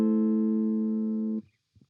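A single guitar chord in the CAGED D shape rings out steadily for over a second, then is abruptly muted, followed by faint handling noise.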